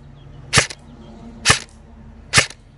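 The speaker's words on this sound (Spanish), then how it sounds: "Me voy a callar y voy a disparar los 10 disparos." Three sharp, evenly spaced shots from a Lancer Tactical M4 LT-02 CQBR airsoft rifle, each a crisp snap with a short rattle, close and loud against a quiet room hum.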